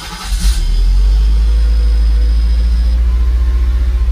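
A Mercedes SL500 engine is running steadily at close range. A deep, loud idle throbs with an even pulse, and a brief rev near the start leads into a constant drone with no talking.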